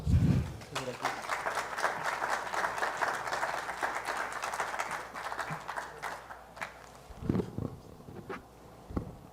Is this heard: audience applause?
yes